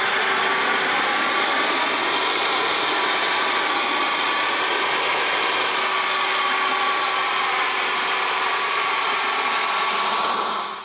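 A leaf blower blasts air steadily while drying a car, a loud, continuous high-pitched whoosh and whine that holds constant before cutting off at the end.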